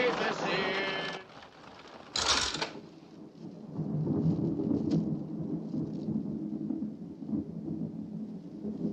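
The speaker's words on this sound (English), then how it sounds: "Storm's passing now" A passing thunderstorm: a sharp, loud thunderclap breaks in, then a low rolling rumble lingers with steady rain hiss underneath; a brief muffled voice-like sound opens the scene.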